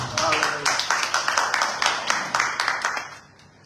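Church congregation clapping in a quick, regular rhythm of about a dozen claps, close and lively, before fading out at the end.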